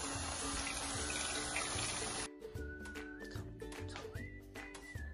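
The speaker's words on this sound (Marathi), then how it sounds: "इथे मसलिन क्लॉथ असल्यामुळे मी हा नळाखालीच धुणार आहे." Tap water runs steadily over chhena wrapped in muslin cloth at a kitchen sink while making kalakand from milk, loud and continuous, then changing to a splashier, broken flow with clinking under it.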